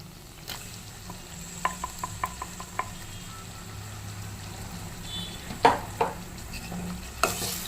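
Eggplant fries and is stirred in a pan, making a low, steady sizzle. A short run of light clinks from the spoon comes in the first half, and a few sharper scrapes and knocks follow later. No one speaks.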